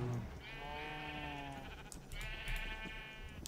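Sheep in the video game Minecraft bleating twice, two drawn-out wavering calls separated by a short pause, close and clear with no talk over them.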